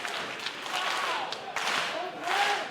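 A wrestling arena crowd cheers and claps in rising bursts behind an excited commentator's fast live play-by-play, the roar swelling and dipping in short waves.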